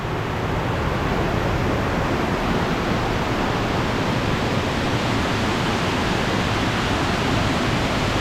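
Creek water pours steadily under a stone masonry arch bridge built by the CCC, a dense, continuous rushing roar close by with no pauses or voices.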